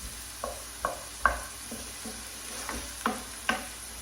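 Red onions cooking in a pan with a soft, steady sizzle, broken by several distinct clicks and scrapes of stirring at irregular intervals, close and moderately quiet.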